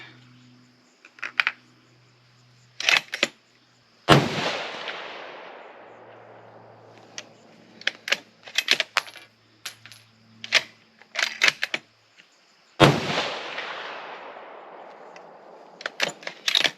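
Two loud rifle shots from a Savage 110 Desert Tactical in 6.5 Creedmoor ring out several seconds apart, each a sharp crack with a long decaying echo, amid scattered nearby clicks and handling noises from a cold barrel at the range.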